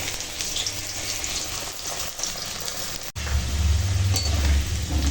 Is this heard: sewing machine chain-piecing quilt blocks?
no